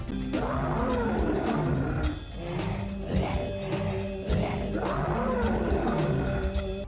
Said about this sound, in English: The Yeti also makes noise in the original